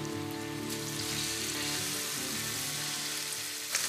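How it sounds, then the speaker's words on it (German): Marinated salmon sizzles in hot oil in a frying pan, a steady, dense crackle that holds at an even level throughout, with no voices. "Erst wenn das Öl erhitzt ist, kommt der Fisch in die Pfanne."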